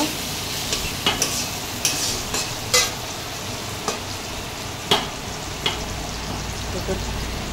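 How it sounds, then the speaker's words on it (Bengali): Chopped tomatoes stirred in a sizzling frying pan, with a spoon scraping and tapping in irregular strokes over a steady close fry, and no speech. "টমেটো কুচি, দিয়ে একটু নেড়ে ছেড়ে নেব।"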